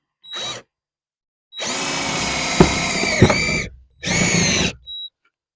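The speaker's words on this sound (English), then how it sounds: "I'm gonna drill a hole." A power drill whirs in bursts up close while drilling a hole to mount a turbo boost gauge in a car: a short spin, a longer steady run as it bites into material, then another brief burst.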